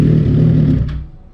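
A Suzuki GSX-R 1000 K9 motorcycle engine, close and loud, runs briefly and then dies away as it is switched off, fading to near silence within about a second.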